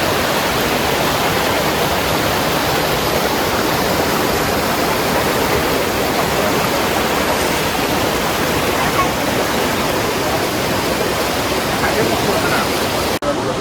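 Kallar Meenmutty waterfall pours in a steady, loud, broadband roar of falling water that holds unbroken and close throughout, with no voices over it.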